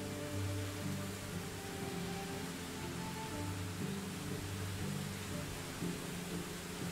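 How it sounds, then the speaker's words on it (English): Steady, dense rainfall hisses continuously, with a low rumble underneath and no other sounds standing out. "It's hard to hear. With all the rain."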